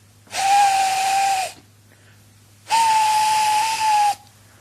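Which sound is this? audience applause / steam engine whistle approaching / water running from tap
steam engine whistle approaching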